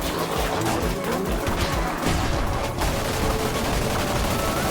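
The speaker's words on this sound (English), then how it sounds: "He's machine gunning." Rapid machine-gun fire from the Kallamari boss in the video game Cult of the Lamb, a dense, continuous burst of shots with crashing impacts running loudly throughout.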